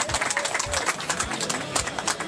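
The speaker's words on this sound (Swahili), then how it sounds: "Mpige makofi." A crowd at a political gathering in Fizi claps in a brief burst of applause, many hands patting in a fast, uneven rhythm, moderately loud and close, with a few soft thumps beneath.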